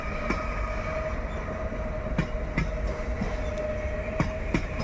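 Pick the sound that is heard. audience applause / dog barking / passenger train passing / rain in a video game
passenger train passing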